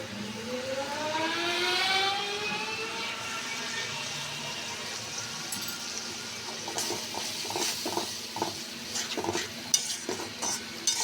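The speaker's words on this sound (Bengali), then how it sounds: "মশলাটা ভালো করে কষিয়ে নিব মশলায় তেল ছেড়ে দাও" Spice paste with turmeric and salt stirred and fried in oil in a pan for a prawn and water lily dish, a soft sizzle under scraping stirs and light utensil clinks toward the end.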